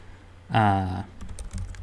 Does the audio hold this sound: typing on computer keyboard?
yes